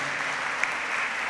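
A church congregation applauds at a Catholic priestly ordination, a steady, moderately faint wash of many hands clapping without distinct voices.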